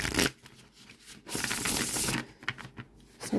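A deck of tarot cards is shuffled up close, giving bursts of crisp riffling and flapping broken by short pauses.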